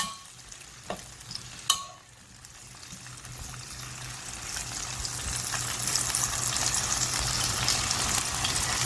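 Lotus root simmering down in a pan with a little soy sauce, the liquid reducing away; a steady soft sizzle and bubbling builds gradually, with a couple of brief clinks or stirs near the start, no talk.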